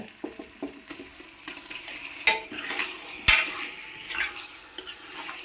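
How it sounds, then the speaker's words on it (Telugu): Washed chicken going into a pan of cooked-down paste and being stirred, with repeated spoon scrapes and clanks against the pot over a soft sizzle. "ఇందులో కడుక్కు పెట్టుకున్న చికెన్ వేసేసుకుందాము"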